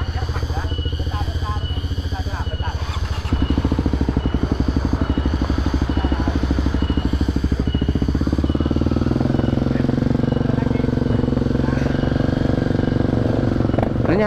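A motorcycle on a Sunday morning ride runs steadily with a loud, close engine drone that rises in pitch as it accelerates midway and keeps going.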